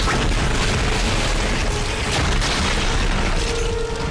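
An explosive pack blows up in the sci-fi horror game Dead Space, heard as a loud, dense rumbling boom with crackling debris that keeps going and stays heavy throughout.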